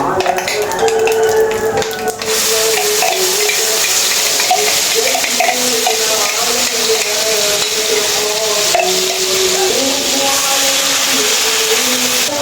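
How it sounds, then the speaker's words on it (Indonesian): Chili peppers sautéing in a pan for a home-cooked dish, a steady, close sizzle running throughout, with tonal music playing over it. "Kemudian ini lanjut saya mau menumis cabenya"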